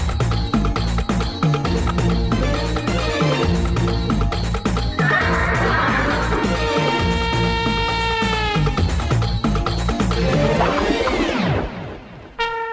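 Loud horse neighing and whinnying, several long drawn-out calls, in a fight scene of a Kannada action film, set against dense music and background commotion.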